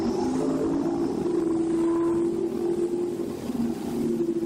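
A 1972 Chevy Vega and a 1972 Plymouth Roadrunner at a drag strip, engines droning in a loud, steady, throaty hum that holds without a break, with no talking.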